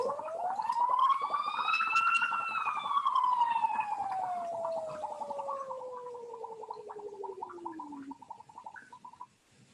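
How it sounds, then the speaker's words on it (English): A voice sings a rising then slowly falling siren-like glide through water in a cup, with bubbling gurgles underneath, close and moderately loud before trailing off. "You can hear the bubbling sound."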